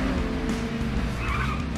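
A loud car engine roars in the video game Payday 2 while tyres skid and squeal through a turn, a continuous close, dense burst with no talking.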